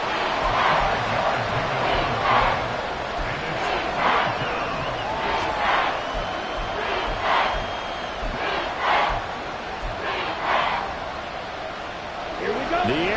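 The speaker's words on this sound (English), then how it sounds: "The Arrowhead crowd in full roar" Arrowhead Stadium crowd roaring during a Chiefs–Dolphins NFL game, a steady, loud, far-reaching roar with swelling shouts and whistles, and nearby people talking over it throughout.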